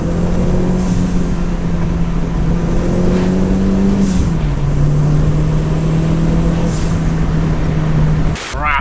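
A Renault 5 GT Turbo engine runs steadily at a constant pitch, its tone dipping briefly partway through, then cutting off with a sharp clunk near the end, close and loud with no talk.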